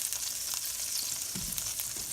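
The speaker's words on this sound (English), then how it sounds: "now I'm going to throw in 3 tablespoons of butter and let those melt" Butter melting and sizzling in a hot pan just emptied of vegetables, a steady close crackling hiss with small pops, no talking.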